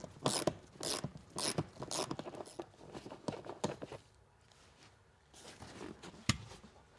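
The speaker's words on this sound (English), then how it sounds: "you can remove these bottom buckets by removing this bolt down here" Bolt being removed from a seat bucket of a Pontiac Trans Am GTA, a quick series of close ratchet clicks and metallic ticks, then a quieter pause and a few more clanks.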